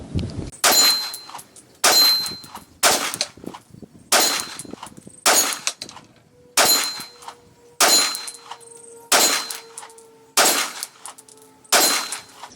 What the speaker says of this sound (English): I'm basically just going to let loose on one of those steel targets out there